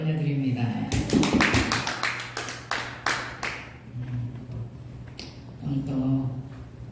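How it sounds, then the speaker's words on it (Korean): A church congregation at a Korean revival service claps in a short burst of sharp, separate claps over a low hum, fading into scattered taps while a voice carries on. "하나님께 영광의 박수를 올려드립니다."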